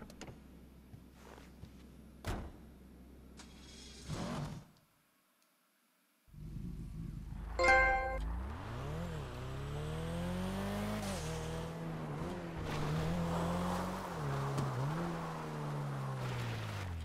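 A car in the GTA Online video game starts up after a short silence, then its engine drones and revs steadily, rising and falling in pitch as it drives, with a few scattered clicks early on.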